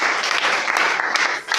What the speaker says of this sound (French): Je vous demande d'abord d'acclamer pour notre